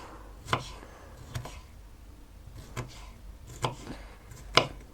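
Five sharp knife chops through bell pepper on a cutting board, spaced about a second apart, close and clear with quiet background in between.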